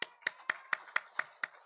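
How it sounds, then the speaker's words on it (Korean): A single pair of hands claps eight times in a steady, evenly spaced rhythm in a church service, sharp and close, rather than a whole congregation. "박수."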